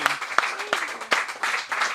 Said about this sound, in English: Round of applause for Kingsley.